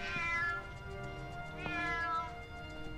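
A cat meows twice, long and plaintive, close by, against a quiet background.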